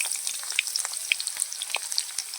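Onion pieces frying in mustard oil with bay leaves in a kadhai, a steady close crackling sizzle with scattered sharp pops and spits throughout.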